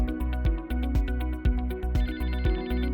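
A telephone rings steadily and loudly in a laboratory with a fume cupboard, its repeated electronic bell pulses close and uninterrupted, with no talking.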